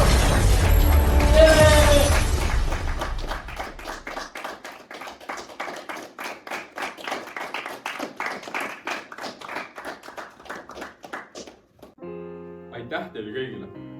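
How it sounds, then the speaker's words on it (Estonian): An audience applauds at an award ceremony honoring the climate activist of the year: a burst of loud crowd clapping that thins into a rhythmic, fading clap pattern before music enters near the end. "Palun tervitage aplausiga meie aasta kliimaaktivisti Robin Hiin."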